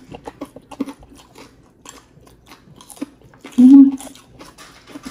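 Crunchy fried chicken skin from a Chooks To Go meal being bitten and chewed up close, with soft crisp crunches and one louder bite, mixed with quiet talk.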